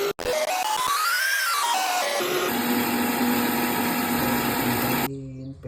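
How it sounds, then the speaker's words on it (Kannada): A kitchen mixer grinds garlic, onion, green chilli and mint into a paste, its loud motor whine rising and falling in pitch before settling into a steady harsh drone, then cutting off abruptly near the end. "ಈ ಬೆಳ್ಳುಳ್ಳಿ, ಈರುಳ್ಳಿ ಮತ್ತು ಹಸಿಮೆಣಸಿನ್ಕಾಯಿ, ಪುದೀನ ಇದಿಷ್ಟನ್ನು ರುಬ್ಕೊಳ್ಳೋಣ"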